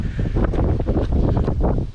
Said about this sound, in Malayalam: കാറ്റ്, ഭയങ്കര കാറ്റ്,